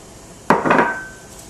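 Fresh parsley and dill stirred into a hot pan over high flame while making saucy asparagus: a sudden utensil scrape and clatter against the pan, then a short rattle fading into a faint ring, close and alone.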